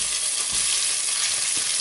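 Cabbage with minced meat sizzles loudly and steadily in a red-hot frying pan, a dense, continuous crackle of frying with no voices over it.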